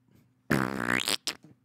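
A man imitates a fart with his mouth, giving a loud, buzzing raspberry that trails off, followed by a short second sputter, close and alone in a comedy podcast setting.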